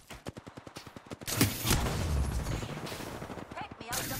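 Rapid automatic gunfire in Apex Legends during a ranked match, a quick run of evenly spaced shots followed by heavier overlapping bursts and impacts, close and loud, with a player talking.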